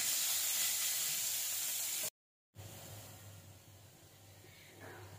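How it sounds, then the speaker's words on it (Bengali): Chopped onions fry in oil in a pan for chana masala, giving a soft continuous sizzle and hiss that stops briefly and then resumes, quiet and even with no talking. "পেঁয়াজটা ভালোভাবে ভেজে নেব।"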